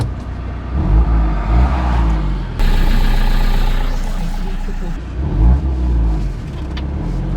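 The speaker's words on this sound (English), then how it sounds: "repairing Travis's burst exhaust isn't one of those things" A van with a burst exhaust revs hard, its engine roaring loud and close in a low, rasping surge that swells and falls over several seconds, with no talk over it.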